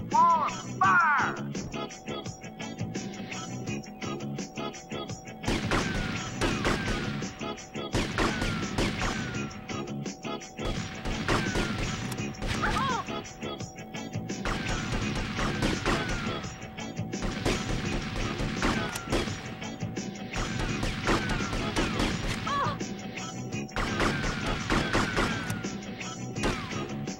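Gunfire cracks in Grand Theft Auto: Vice City, repeated sharp shots and crashes in irregular clusters over a steady background tone, fairly loud and close throughout.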